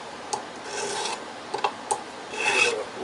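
A metal file rasps a curly metal ring down a fraction of a millimeter, with a few short, sharp scraping strokes followed by a longer, louder pass near the end, close and without speech.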